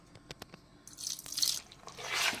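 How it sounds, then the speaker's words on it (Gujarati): Water poured into a bowl of soda batter mix, a few light drips at first and then a steady splashing pour that rises and continues close by, with no talk. "પાણી નાખશું."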